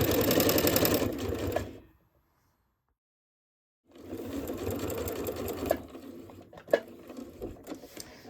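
A sewing machine runs in fast, even bursts while stitching fabric for a scrap-fabric jar opener, with a brief silent pause for turning at a corner, then stitching resumes with backstitch clicks, close and loud without talk.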